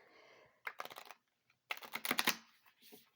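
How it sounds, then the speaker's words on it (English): Oracle cards from a Salt+Sea Energy Oracle deck being riffle shuffled, two quick crisp bursts of fluttering card clicks, close and fairly quiet with a short pause between them. "You can also riffle shuffle."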